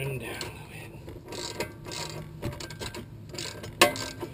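A hand ratchet clicks in short irregular bursts while tightening wheel hub bolts on a Chrysler Town and Country, quiet and close, with a sharper metallic clank near the end.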